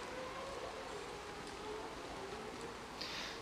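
Steady rain during a race in the mobile game Motorsport Manager Mobile 2, an even, continuous hiss of falling water with no clear breaks.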